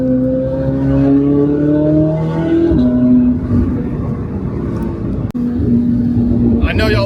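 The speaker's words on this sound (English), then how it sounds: "downshifting on this car never gets old." A Corvette C8 ZR1X engine downshifts and revs loudly up close, pitch stepping as gears change, while someone talks over it.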